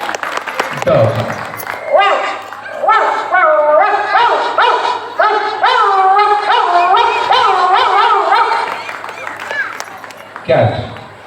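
A person mimics a dog, producing a rapid series of harmonic bark-like yelps and whines that fill most of the stretch, with short spoken words at the start and end.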